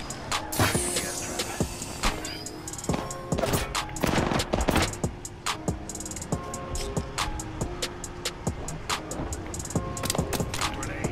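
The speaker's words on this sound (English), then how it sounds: "That's a grenade." A grenade blast in the shooter game Apex Legends, heard amid a dense chaotic firefight of rapid gunshots, clicks and impacts, loud and close throughout.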